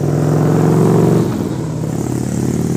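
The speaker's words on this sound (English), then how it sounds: "Here comes another motorcycle." A motorcycle passes close by on a street, its engine rising to a loud revving peak and then dropping in pitch as it moves away, a steady engine drone continuing afterward.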